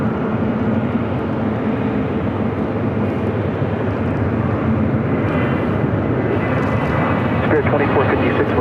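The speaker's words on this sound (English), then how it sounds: "And the flight to Cabo, now rolling down at 25 right." An airliner rolls down runway 25 right at LAX for a flight to Cabo, a steady, loud engine roar with broadband rushing noise that holds throughout, with a voice talking over it.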